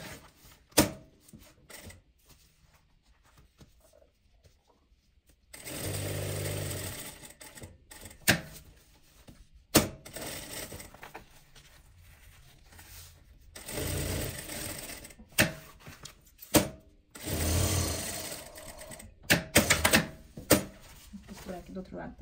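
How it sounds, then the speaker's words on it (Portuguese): A sewing machine topstitches around a seam, joining main fabric to lining, in several bursts of rapid mechanical whirring separated by pauses, with someone talking in between. "E agora eu vou passar um pesponto dando a volta nessa costura toda, prendendo o tecido principal com o meu tecido de forro"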